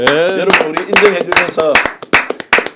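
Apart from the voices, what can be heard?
three people clapping hands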